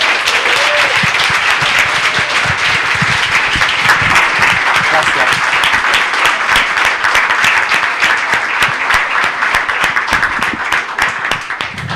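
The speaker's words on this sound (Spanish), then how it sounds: "un aplauso, ¿cierto?, para finalizar" Lecture audience applauding at the close of a talk on Australopithecus and early technology in Africa: steady, full applause from many hands, sustained and fairly loud throughout, with faint voices mixed in.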